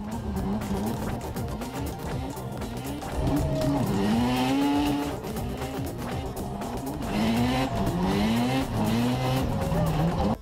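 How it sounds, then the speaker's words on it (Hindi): A tractor drifting with its tires squealing in long, rising and falling screeches over a loud engine, sustained and close throughout. "ट्रैक्टर ड्रिफ्टिंग एक बहुत ही मुश्किल और जानलेवा शौक है"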